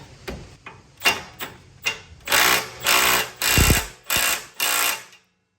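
A pneumatic impact wrench tightens sway bar bolts on a Kia Sportage, rattling in five loud, close bursts of about half a second each, with some shorter taps before them and a sudden stop at the end.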